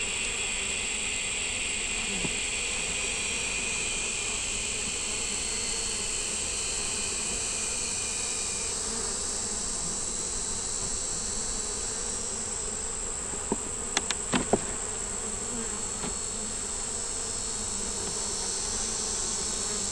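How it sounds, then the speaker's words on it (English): Steady insect buzzing drones throughout, a dense hum of honeybees in a hive, with a few faint clicks and taps partway through. "Got bees."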